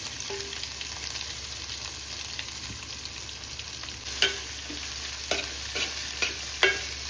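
Chopped onions stir-fry in oil for chicken sukka, giving a continuous close sizzle broken by several distinct scraping clicks of a spatula against the pan toward the end.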